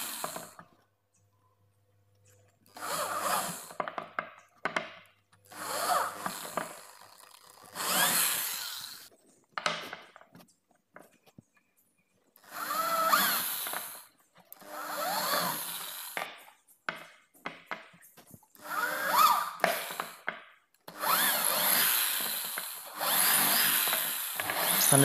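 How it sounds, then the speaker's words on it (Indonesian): A power drill bores holes in a block of wood in repeated bursts of several seconds each, separated by quiet pauses, the whirring motor close and clear. "ini bagian yang akan kita lubangi menggunakan bor nantinya"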